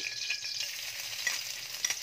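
Garlic sizzling steadily in olive oil for a Spanish-style sardine pasta, a close, continuous crackle with small pops scattered through it and no voices.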